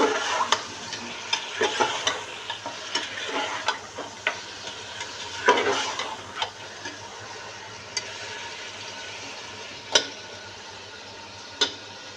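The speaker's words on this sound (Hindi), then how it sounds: "बीफ डालने के बाद बीफ को हम इतना फ्राई करेंगे कि बीफ का कलर चेंज हो" A kilo of beef fries over a medium flame while being stirred, giving a steady sizzle broken by repeated scraping strokes and sharp clinks of the spoon against the pan, close and with no speech.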